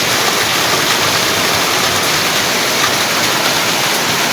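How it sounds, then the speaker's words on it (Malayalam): Heavy rain pours outside in a loud, unbroken roar like a waterfall, close and steady with no voices. "പുറത്ത് നല്ല മഴ, നല്ല അടിപൊളി അസല് മഴ പെയ്തുകൊണ്ടിരിക്കുകയാണ്"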